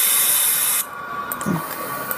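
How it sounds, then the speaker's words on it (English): A loud, steady spray hiss that cuts off abruptly partway through as the diesel spray is refilled in the Five Nights at Smudgers 2 game, leaving quieter hum and faint clicks. "now I'm refilling the diesel spray"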